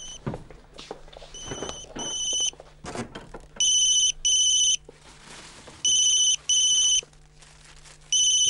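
A mobile phone rings from inside a kitchen refrigerator in bursts of a bright electronic ringtone, muffled between repeats, with footsteps and rustling nearby.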